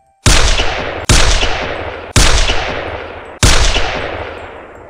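Four loud gunshots fired as a sound effect in an uneven rhythm, each a sharp crack whose ringing echo carries into the next shot.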